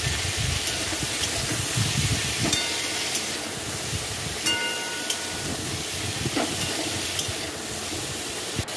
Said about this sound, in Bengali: এবার কুমড়োগুলো ভাজা হয়ে গেছে।